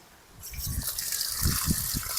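Hot water from boiling shrimp poured off in the kitchen, a close, continuous splashing gush with a few gurgling bursts after a quiet start, no voices.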